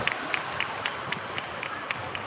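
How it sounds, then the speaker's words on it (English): Crowd clapping at a basketball game, faint and steady, with evenly spaced sharp claps repeating about four times a second over a soft background hum. "Applause from the crowd."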